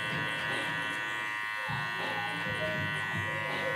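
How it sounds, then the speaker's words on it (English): Oster electric hair clippers cut hair during a skin fade, giving a steady close buzz with a fixed whine throughout. The pitch shifts a little as the blade meets the hair, and someone talks over the buzz. "So now with my osters going in with a zero just to sort of soften up this faint line"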